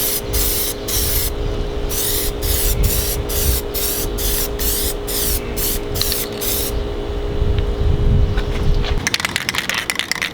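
Plasti Dip aerosol sprayed onto chrome window trim and emblems of a 2019 Mazda 3 GT, close and loud, in a string of short hissing bursts with brief pauses, then a steadier stretch of continuous spraying and a rattling can near the end.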